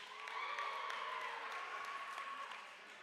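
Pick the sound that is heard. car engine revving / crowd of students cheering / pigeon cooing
crowd of students cheering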